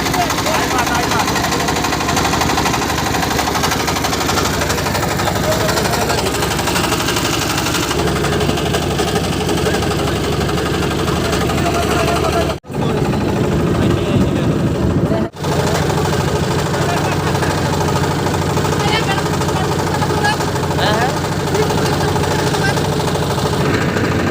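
A motorboat engine pushes a boat across the Padma river on a picnic trip in Rajshahi, droning loud and steady at close range with a knocking, vibrating tone, with voices talking over it and two brief dropouts midway.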